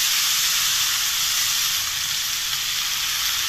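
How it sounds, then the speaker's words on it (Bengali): Green chillies and onion frying in a pan produce a dense, loud, continuous sizzle and hiss close by, with no talk over it. "আমি কাঁচা লঙ্কাটা আর পেঁয়াজটা সুন্দর করে আমি একটু ভেজে নেব"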